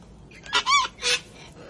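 A duck gives two short, harsh quacks in quick succession, close and fairly loud against a quiet outdoor background.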